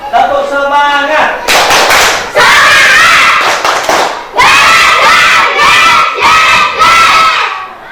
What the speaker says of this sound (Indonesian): tepuk dulu. Tepuk semangat.